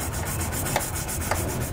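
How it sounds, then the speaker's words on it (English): Dirt, debris and rust being scrubbed out of the weld-nut bolt holes on a 2019 Nissan Rogue frame during a Curt trailer hitch installation, a close, steady rhythmic scratching rub with a couple of brief sharper scrapes. "I'm going to clean them out, make sure there's no dirt, debris, or rust in there."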